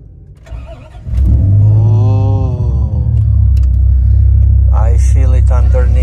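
A Dodge Viper's 8-liter V10 of about 500 horsepower breaks into a loud, close, deep rumble after a second of quiet and holds a steady, throbbing growl, with a voice speaking briefly near the end.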